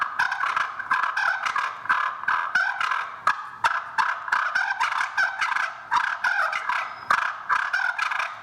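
A vintage turkey call, worked by hand, imitates two turkeys fighting: rapid, raspy gobbling and clucking bursts repeat in a loud, close, continuous series with no talk.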